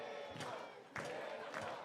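Baseball crowd at a Portland Pickles summer-league game against the Cowlitz Black Bears stirring and cheering in bursts, rising swells of voices about once a second over steady ballpark murmur.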